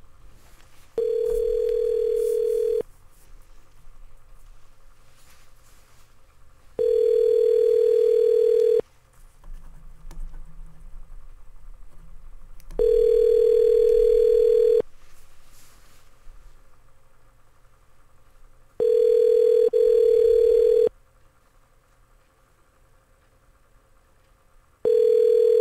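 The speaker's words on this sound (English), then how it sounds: "let's go ahead and give Daniel a call back" An outgoing phone call ringing tone, a loud steady electronic ring in four long bursts about two seconds each, separated by gaps of quiet line hiss, with no talking.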